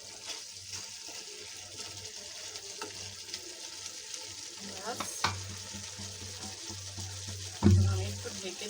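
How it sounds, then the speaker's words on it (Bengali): Fried fish and potato pieces stirred in a frying pan for a fish curry with ripe tomatoes, giving a steady low sizzle with scraping stirs throughout and a louder clatter near the end. "সাথে সাথে মাছটাও দিয়ে দিই। মাছটা ভাজা করা আছে।"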